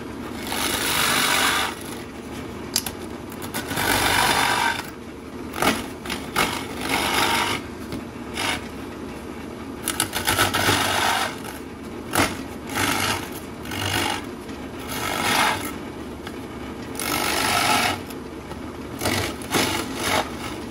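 A 1.5 inch Forstner bit cuts into a wooden pintail drake duck carving to hollow the body, loud grinding bursts of a few seconds each repeating with short pauses between them.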